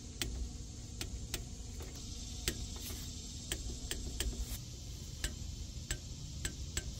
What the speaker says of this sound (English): now we need to grab our torque wrench and torque these bolts down